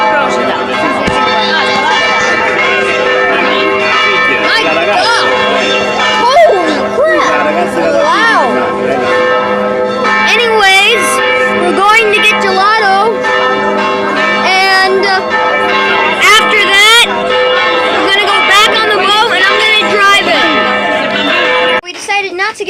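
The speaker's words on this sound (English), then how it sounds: "The bells of church bells. Bells of Procida. The bells of Procida." Church bells of Procida, Italy, ring steadily and loudly through the whole span, their layered tones sustained over a busy crowd murmur, with people talking nearby.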